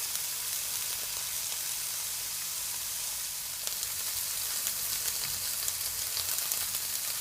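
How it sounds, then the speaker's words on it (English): Chicken for a pineapple baked chicken dish sauteing in a pan, a steady, close, hissing sizzle that holds evenly throughout with no talk. "you're gonna leave it for at least 3 minutes just to saute"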